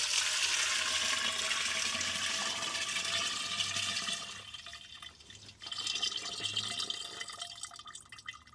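Water runs steadily into a 2-gallon plastic garden sprayer tank, a continuous splashing fill that dips and thins midway before resuming, close and alone without talk.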